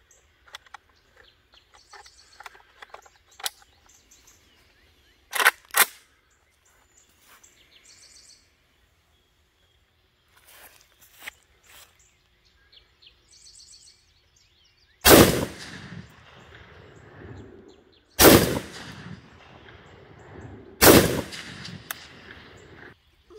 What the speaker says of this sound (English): I'm going to go ahead and shoot it.